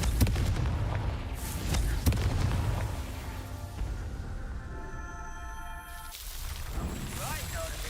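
A Confringo spell blast in Hogwarts Legacy booms twice in quick succession, then a ringing, sonar-like tone hangs and fades before a low rumble, with a voice speaking over the effects.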